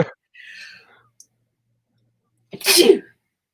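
A faint breath or soft sound, a brief pause, then one sharp, loud sneeze near the end.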